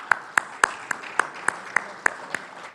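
Sparse rhythmic clapping from a small audience at the LPL 2024 cricket auction, about ten distinct claps spaced evenly, thin and not sustained, with no talk over it.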